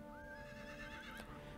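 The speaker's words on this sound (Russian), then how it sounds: "В это время он покупает коня." A horse neighs with a wavering whinny in Heroes of Might and Magic III when a horse is bought, set over a steady, faint game background with no talk.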